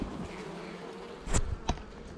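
Honeybees hum quietly around a beehive with a steady, faint buzz, while a couple of sharp clicks or taps stand out briefly near the end.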